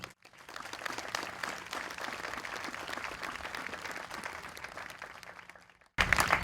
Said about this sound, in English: Let's give them a round of applause, Lou.